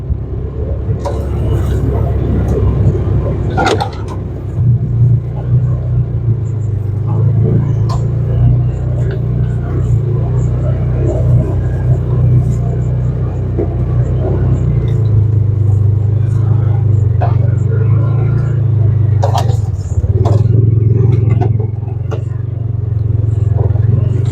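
A 2015 Polaris Ranger 570 UTV runs in four-wheel drive with a steady, loud engine drone and low rumble. Clattering knocks from the chassis and rough ground come through on top, with some faint talk.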